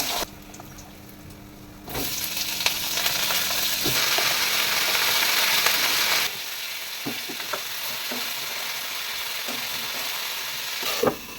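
Panch phoron and bori hitting hot mustard oil in a pan: a sudden loud, close sizzle that holds steady, then drops to a quieter crackle with occasional ticks and pops.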